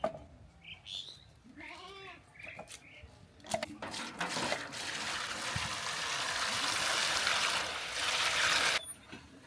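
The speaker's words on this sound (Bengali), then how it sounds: "কেটে পরিষ্কার পানি দিয়ে ধুয়ে নিব।" Running water splashes steadily as cut cauliflower is rinsed in clean water, building to a continuous loud gush after some bleating animal calls and faint background sounds at the start.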